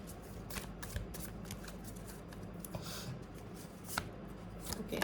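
Tarot cards are shuffled continuously, a soft, steady riffling and rubbing texture that stays faint and close throughout with no talk.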